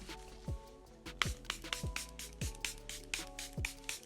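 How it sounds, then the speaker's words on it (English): Airbrush Flawless Setting Spray hisses out in a quick series of short misty spritzes onto a face, steady and close, with soft music playing underneath. "Airbrush Flawless Setting Spray to spray all over the face"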